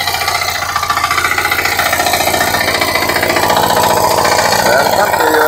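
A rotary tiller with a 178 engine and lithium-battery electric start runs loudly and steadily up close, with an even, rapid chugging and a mechanical rattle throughout.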